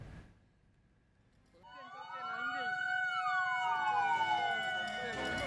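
A fire engine siren wails at a burning electrical substation, rising and falling in a clear sweeping tone that swells in and stays loud and near, with traffic rumble underneath and a voice talking over it.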